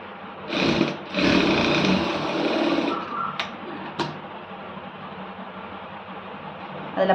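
A sewing machine stitches a sleeve in bursts, running loudly for a few seconds with brief pauses, then quieter mechanical clicks and a low hum continuing as it slows.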